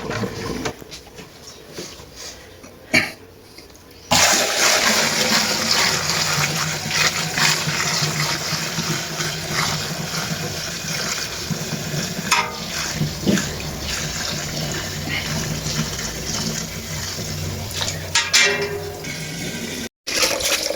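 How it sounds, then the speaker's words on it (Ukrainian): Homemade Bessarabian wine is drained into a bucket, and after a few quieter seconds a loud, steady gush of liquid pours on continuously, with a few faint knocks. "Ось чоловік сточує у відро."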